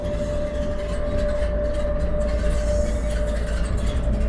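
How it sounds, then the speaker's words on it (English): Steady rumble of an airport terminal shuttle train in motion at Walt Disney World travel, a constant low drone with a steady tonal whine running throughout, heard from inside the car without talk. "Are you driving this train up in the front?"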